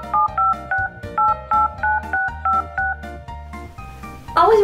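A rapid string of about a dozen evenly spaced two-tone keypad beeps as a phone number is dialed, followed by a brief louder warbling tone at the end.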